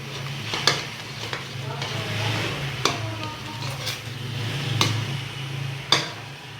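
A spoon stirs kheer in a pot over low heat, soft bubbling and a gentle sizzle broken by several sharp clinks of metal against the pot.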